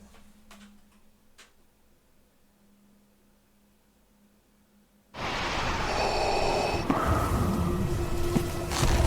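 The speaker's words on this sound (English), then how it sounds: "Love opening up, just hearing him breathing" Heavy, amplified mechanical breathing of an armored Sith figure opens a Star Wars: The Force Unleashed cinematic trailer: a quiet, nearly empty lead-in with faint ticks, then a loud, dense breathing roar swells in at about five seconds and holds to the end.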